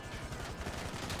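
Rapid bursts of gunfire during a GTA V Online heist shootout, dense and continuous across the moment with no voices over it.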